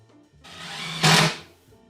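A power drill drives a screw into a cedar board for a raised garden bed: one short whirring run that rises to a louder, strained burst near the end, then stops, close and alone.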